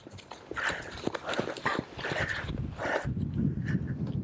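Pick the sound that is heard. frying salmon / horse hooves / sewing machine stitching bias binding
horse hooves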